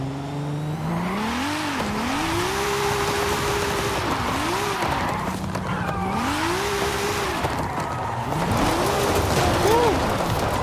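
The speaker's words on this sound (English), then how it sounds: "Alright, so this is a little wild, this Subaru." A Subaru engine in Forza Horizon 5 revs up and drops repeatedly through gear changes, steady and loud, with tyre noise underneath and brief higher squeals near the end.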